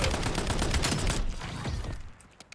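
Rapid automatic gunfire from the MXR rifle in Call of Duty Black Ops 7, a dense burst of fast shots for about two seconds that cuts off and leaves a few faint trailing clicks.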